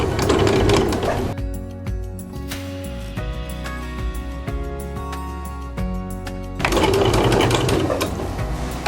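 Sewing machine running loud and close while stitching continuous bias binding, a fast whirring burst at the start and again at the end, with softer mechanical clicking and handling between the runs.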